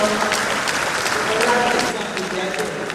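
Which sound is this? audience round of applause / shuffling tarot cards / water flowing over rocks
audience round of applause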